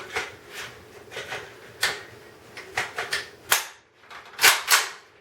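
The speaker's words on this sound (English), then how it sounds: "that's a fairly quick reload" AK-47 rifle being reloaded left-handed: a series of sharp, close metallic clacks and snaps as the magazine is swapped and the charging handle is racked, ending in a quick cluster of clicks.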